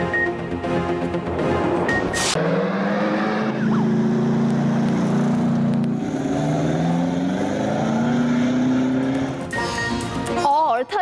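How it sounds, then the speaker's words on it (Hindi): Jeep rally vehicles race across a dusty desert track in Thal. Engines roar and rev close by, rising and falling in pitch as they pass, with brief sharp bursts at the start and end. "हर तरफ धूल उड़ाती और फराटे भरती गाड़ियों का शोर"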